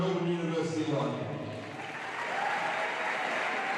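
An audience at a netball grand final presentation applauds the runners-up, producing loud, sustained clapping that dips slightly mid-way and then swells again.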